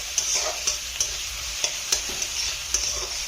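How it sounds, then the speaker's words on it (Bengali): Capsicum fries in a pan with a steady close sizzle, punctuated by about eight sharp scraping stirs of a spatula at irregular intervals. "ক্যাপসিকামটা একটু ভেজে নিই"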